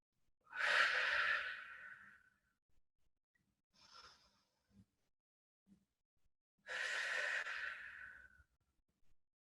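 Two slow, deep breaths during a Pilates exercise, each a long, close, airy exhale, separated by a quiet pause with a few soft small breath sounds.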